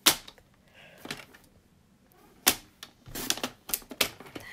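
Sharp, crisp snips and crackles come in irregular bursts, close and fairly loud, with quiet pauses between them, as scissors cut through patterned paper and a small label for card making.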